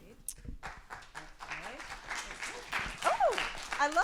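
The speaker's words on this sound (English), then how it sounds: "Oh, I love the applause." An audience claps in a library theatre, the applause building and growing louder toward the end, with voices and whoops mixed through the crowd noise.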